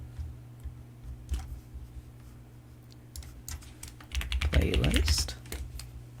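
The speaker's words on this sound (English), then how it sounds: "Sorry for my keyboard ASMR." Computer keyboard keys click in scattered bursts, then a quick, dense run of typing near the end, close and fairly faint over a low steady hum, with a brief spoken word.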